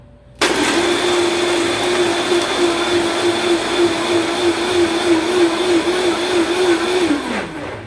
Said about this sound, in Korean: 블렌더를 닫고 약 8에서 10초간 블렌더를 작동시킵니다